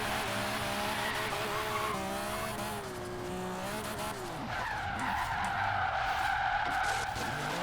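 Wide-body Nissan Fairlady Z drift build in Forza Horizon 3 sliding through corners, a loud continuous engine drone with rising and falling pitch and sustained tire squeal, the skid intensifying in the second half, no talk.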